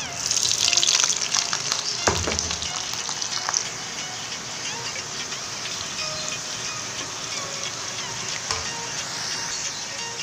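Fried potatoes drop into a hot pan with black cumin seeds for a Bengali jhinge aloo posto, giving a bright sizzle that flares early and then settles into steady crackling frying with a few stirring knocks.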